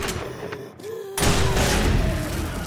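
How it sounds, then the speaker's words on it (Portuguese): A loud burst of rapid gunfire in the video game 7 Days To Die erupts suddenly and keeps rattling, dense and close, with a faint tone running underneath. "Olha quantos tiros, cara."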